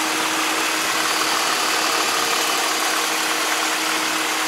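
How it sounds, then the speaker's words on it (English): A car engine idles very quietly under the steady whoosh of a running fan and belt, a constant close hum with a faint tonal whine and no variation. "the engine itself is very, very quiet"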